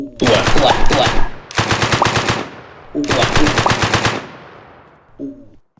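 An AK-style rifle in the S&box video game fires three loud, rapid automatic bursts with short gaps, each ending in a fading echo, followed by a faint mechanical click.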